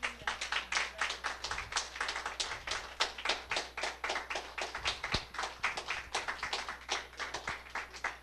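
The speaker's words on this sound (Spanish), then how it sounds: "Denle un aplauso al Señor" A church congregation claps together in a fast, steady rhythm, many crisp hand claps in unison repeating evenly for several seconds, fairly close, with a low hum underneath and no voices.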